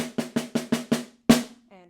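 Snare drum playing a short rhythm: six quick, evenly spaced hits, then a pause and one louder accented stroke, close and crisp with no talking.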